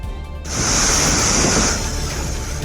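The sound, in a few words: waterfall in flood after heavy rain, Meghamalai, Theni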